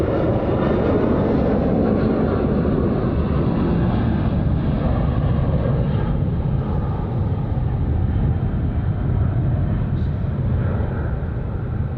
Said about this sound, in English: That was by far the longest takeoff roll we've seen so far on the show today.